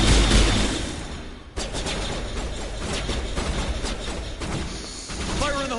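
Heavy gunfire in Mass Effect 1 Legendary Edition: dense, overlapping bursts of shots and thuds fill the whole stretch, loud and continuous, with a sharp break midway before the firing resumes.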